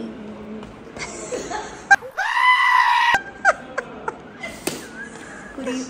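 A person mimics a lamb's bleat with one sustained, wavering cry, surrounded by chatter and bursts of laughter on a serial shooting set.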